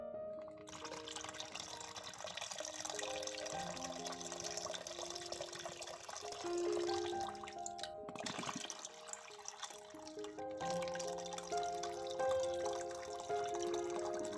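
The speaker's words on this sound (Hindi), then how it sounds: "नारियल का पानी इसमें निकाल लेंगे।" Coconut water from four tender coconuts is poured into a jug in a steady, faint, trickling stream that pauses briefly near the middle, with soft music playing underneath.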